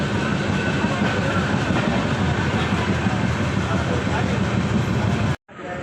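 Passenger train in motion, with a loud continuous rumble and rattle of the carriage and faint rhythmic clatter, cutting off abruptly near the end.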